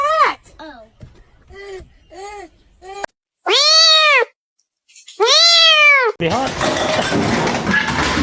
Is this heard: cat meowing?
yes